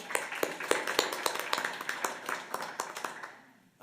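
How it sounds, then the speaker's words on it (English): Applause and clapping from a school board meeting audience, a dense run of hand claps lasting several seconds before tapering off near the end. "let's give her one more round of applause"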